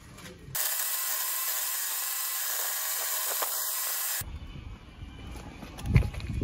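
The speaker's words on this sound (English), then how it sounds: "So just currently on with core drilling for the extractor vent in the what will be the bathroom" Core drilling through a wall for a bathroom extractor vent: a steady, loud grinding whine runs for about four seconds, then cuts off, leaving quieter scraping and knocks.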